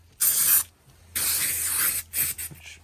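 Short bursts of aerosol spray paint hiss onto a homemade gas bottle roof rack mount, three close, loud sprays separated by brief pauses.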